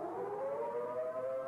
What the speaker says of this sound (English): The signal is a long, steady blast on the civil defense sirens or other warning devices.